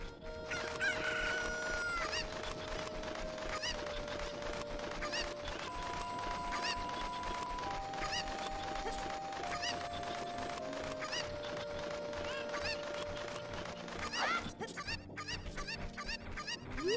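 Chickens crow and cluck in Zelda: Ocarina of Time, repeated game-rooster calls and squawks layered over sustained background music, with a burst of rapid clucks near the end.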